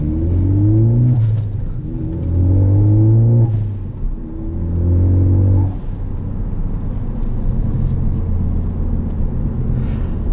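A 2013 Ford Focus ST ST2 with an aftermarket intake and Ford Performance exhaust revs up loudly several times in rising engine sweeps during a drive, then settles into a steady droning cruise.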